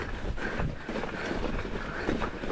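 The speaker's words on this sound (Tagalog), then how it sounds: "Hangin na!" Strong wind buffets the microphone during a bikepacking ride in Aguilar, Pangasinan, a constant loud rushing roar with gusty surges throughout.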